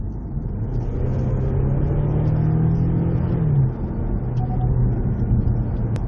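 A Kia Stinger facelift engine steadily accelerates from inside the cabin with the variable exhaust switched off, a low droning hum rising in pitch before settling and climbing again, with muted exhaust.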